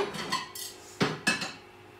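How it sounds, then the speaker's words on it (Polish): Plates and cutlery clatter on a kitchen counter while dishes are set out for toast and burgers, a few sharp ceramic clinks and knocks with short quiet gaps between, close up and with no talking. "Ja ci tutaj przygotuję talerzy."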